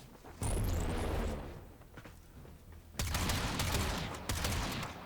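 Twin Akbronco Prime shotguns firing in Warframe, two loud blasting bursts a few seconds apart, each a dense crackling volley that trails off, with quieter game noise between.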